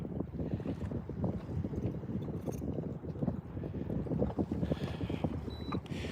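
Steady wind buffeting a fishing boat out on the water during bass fishing, a continuous close rumble and rustle of gusts on the microphone that stays loud throughout with no voices.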